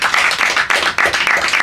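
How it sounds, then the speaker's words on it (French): A crowd applauds at an evening festival event, dense rapid clapping from many hands, loud and close, in short swelling bursts. "On peut les applaudir."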